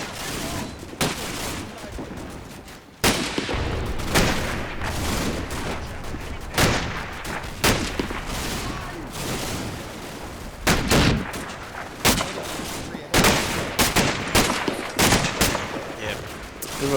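Rapid rifle and machine-gun fire from the Combat Mission Battle for Normandy video game, with repeated sharp volleys and bursts cracking close and loud over a continuous battle din.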